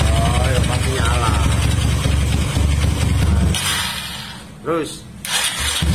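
A Honda Tiger motorcycle, just refitted after a fault with a cracked magneto and slipped rotor magnet, turns over and fires near the microphone, a steady engine rumble running under close talk before a couple of brief revs.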